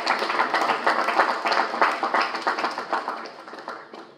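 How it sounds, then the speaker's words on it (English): Applause from an audience at a military ceremony honouring retiring generals, a steady patter of many hands clapping at moderate loudness for about four seconds and thinning slightly toward the end. "if you want to appreciate with applause"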